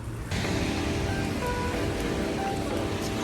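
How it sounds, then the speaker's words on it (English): Heavy rain pours down on a New York City street, a dense, steady roar of close broadband noise that starts abruptly and continues without a break. "It's pouring rain."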